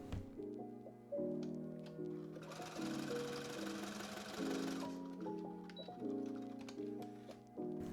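A home sewing machine stitches buttons onto a summer dress, running in steady rhythmic bursts with brief pauses between, close and fairly quiet with no talking.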